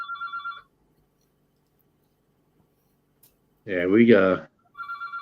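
A fax line phone rings from a spam call in a trucking office, two short bursts of electronic ringing with someone speaking briefly between them.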